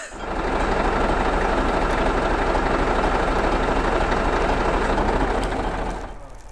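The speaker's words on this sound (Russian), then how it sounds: "Руками просто завел экскаватор, мертвый, без аккумов." A Caterpillar 320DL tracked excavator, started by hand with dead batteries, runs with a loud, steady, rough diesel roar close by for several seconds before the sound drops away at the end.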